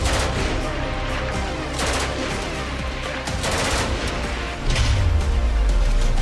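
Gunfire in Kashmir comes as dense bursts of rapid shots over a continuous noisy background, ending in a deep low boom, with no clear speech.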